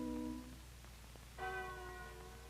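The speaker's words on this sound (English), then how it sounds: "the same bell that later gave hope to Anne Frank rang for Rembrandt's death" Westerkerk church bell in Amsterdam ringing, one clear bell strike with a long ringing decay, quiet and distant with no voices.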